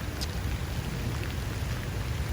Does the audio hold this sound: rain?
yes